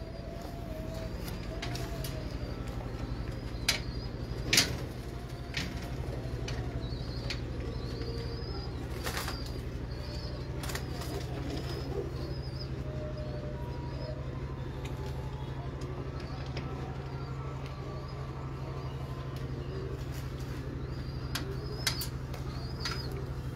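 Pigeons in a breeder loft give soft, repeated coos with occasional brief wing flaps, set against a steady low hum and faint voices in the background.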